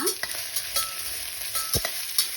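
Mangalore cucumber goes into a pan of roasting onions for a temple-style sambar. A close sizzle of frying is punctuated by a few short scraping stirs.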